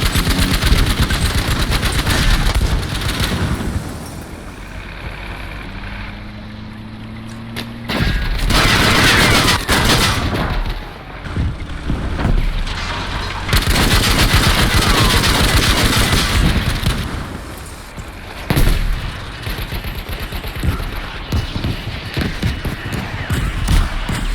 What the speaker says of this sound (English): we got the stupid 20mm cannon